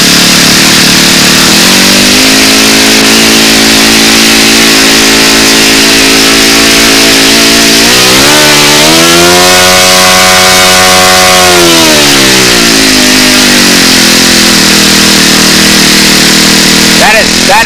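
A model aircraft engine screams loud and close, running steadily before its pitch climbs sharply to a high-RPM peak, holds there, then drops back to the earlier steady drone.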